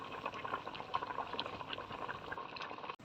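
Raw mango pieces for murabba simmer in a pot of boiling water, a soft continuous bubbling and popping close by, faint and steady, ending with a sharp click.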